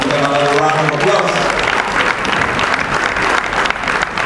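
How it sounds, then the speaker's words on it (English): An audience at the Lagos International Theatre Festival applauds the thespians on stage, loud dense clapping filling the space steadily throughout, with a voice carrying over the opening moment. "Give them another round of applause."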